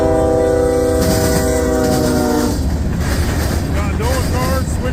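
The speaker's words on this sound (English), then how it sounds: "here comes train number 2 for me out here at Galatea. Another short one." A CSX freight train led by a single locomotive passes close at Galatea, its horn blaring in a sustained chord before cutting off into rumbling, clattering wheels. Faint chirping sounds over the noise.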